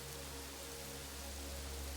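Steady rain hisses and patters continuously in the city-builder game Kingdoms & Castles, a dense, even wash of falling water with a low hum beneath it and no voices.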